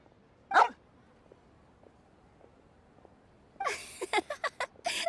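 A dog in the Genshin Impact video game barks: one sharp yelp, then after a quiet pause a quick burst of several short barks, fairly close and clear against faint background ambience.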